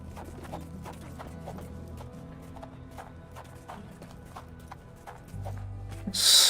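Horse hooves clip-clop in a steady, close rhythm in the video game Sherlock Holmes The Awakened, with a low musical or ambient bed underneath and a brief louder swell near the end.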